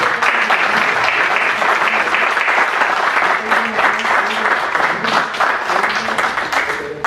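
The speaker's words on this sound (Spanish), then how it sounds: "Un fuerte aplauso para el licenciado" A loud, full round of applause from an audience greeting a criminal defense lawyer before his talk, with steady dense clapping lasting throughout.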